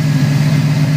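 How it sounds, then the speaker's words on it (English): A Ford Gran Torino's bored-out Cobra 429 V8 idling, a loud, steady, deep burble with a strong low hum, close up, with no one talking. "It's a mighty engine."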